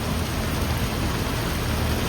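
Heavy rain pours steadily on a flooded Mumbai street, a dense, loud, unbroken hiss with a low rumbling wash underneath and no voices.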